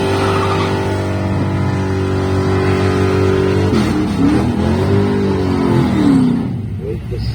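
A 1967 Chevy Chevelle nostalgia superstock drag racer with a 509 cubic inch engine roars loudly at a drag strip, a steady heavy rumble that swells and revs partway through, with an announcer talking over it.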